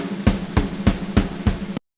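Programmed snare drum roll from a pop punk drum track, six evenly spaced hits about a third of a second apart, growing harder and brighter as velocities crescendo, played alone and close.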